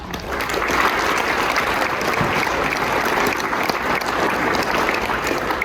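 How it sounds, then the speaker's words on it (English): A pep-rally crowd breaks into sustained applause, dense, loud clapping that rises quickly and holds steady throughout, filling the room without any speech over it. "please give yourselves a round of applause as well"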